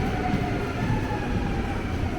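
Double-decker train in Europe rumbling along the rails with a steady low roar and faint clatter, close and continuous, with no voices.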